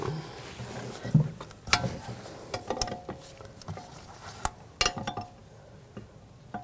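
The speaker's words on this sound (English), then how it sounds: "Use the 11mm line wrench. And you want to loosen that." An 11mm line wrench works loose a front brake hose fitting on a 2006-2009 Audi S4, producing scattered metallic clicks, taps and scrapes at close range with no speech.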